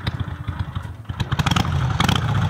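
A Harley-Davidson Sportster 883 XL idling at roughly 800 rpm, running on the edge of stalling: an uneven, lumpy low putter that firms into a steadier, slightly louder throb in the second half, with no talk over it.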